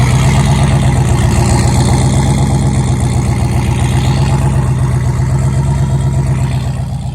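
A Ford Fairmont engine, boosted, idles loud and close after a cold start, with a steady low throbbing rumble and even pulses that ease off slightly at the very end.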